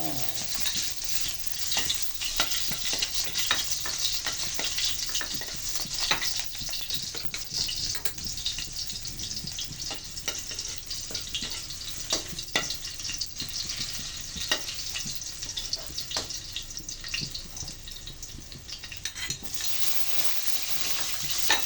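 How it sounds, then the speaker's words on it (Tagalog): Pork belly sautéing in hot oil for Filipino adobo, a steady close sizzle and crackle running throughout with scattered scraping stir strokes and occasional light clinks of utensils against the pan, no talking. "Nag-init na tayo ng mantika. Ayan. Igisa na natin ito."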